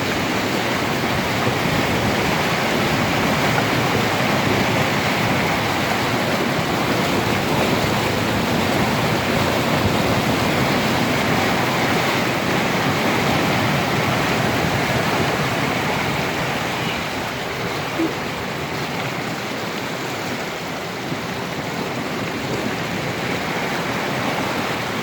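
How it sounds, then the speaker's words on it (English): Floodwater pours across a normally dry concrete parking lot from the street and a city drainage point, making a steady, loud rushing roar that continues unbroken and alone throughout. "You can literally see the water flowing into the property from the street"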